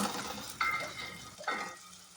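Curry leaves and ginger garlic paste sizzle steadily in hot oil for a prawn fry, with two louder bursts of crackling as the mixture is stirred in the pan. Nobody talks.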